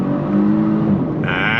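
A 2024 Genesis G70 3.3T sedan accelerates on throttle, its engine giving a steady, rising hum from inside the cabin, with a brighter whine building near the end.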